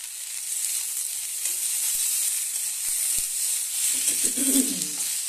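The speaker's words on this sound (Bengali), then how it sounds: "এরপরে একটু টমেটো দিয়ে দিচ্ছি।" Cauliflower sizzles and hisses steadily in a pan after tomato is added, with a few soft knocks of a utensil and a brief burst of stirring near the end.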